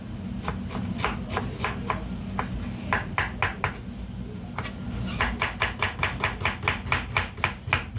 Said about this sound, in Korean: 양파 엄청 잘 잘라.